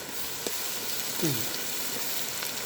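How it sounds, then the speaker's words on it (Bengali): Garlic-ginger paste sizzles in a pan of medium-browned onions for chicken biryani, a steady hiss with a few faint stirring scrapes and a brief tonal squeak partway through. "এখানে আমি রসুন আদা পেস্টটা অ্যাড করে দিতেছি"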